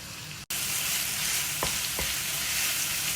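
Minced meat for lasagne sizzles and fries steadily in a pan, a dense close hiss with a couple of brief stirring scrapes partway through and one sudden cut near the start.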